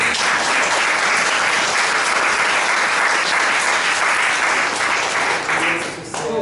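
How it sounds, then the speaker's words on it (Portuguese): Sustained audience applause at the close of a history seminar session, a dense, loud roar of many hands clapping that fades near the end, with faint voices underneath. "Vale uma salva de palmas"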